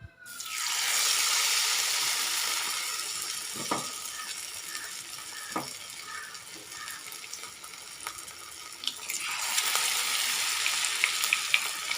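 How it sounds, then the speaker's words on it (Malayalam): Batter-dipped pieces of sweet jackfruit dropped into very hot oil for fritters, a strong steady sizzle and bubbling that settles slightly then swells again, with a few faint utensil clicks, no voices. "നല്ല ചൂടായ എണ്ണയിലേക്ക് നമ്മളിതുപോലെ ഒന്ന് ചക്ക മുക്കി ഫ്രൈ ചെയ്യാനിടാം"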